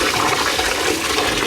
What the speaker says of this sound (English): we'll be rinsing out the rice under cold water. So I'm just going to run some water through it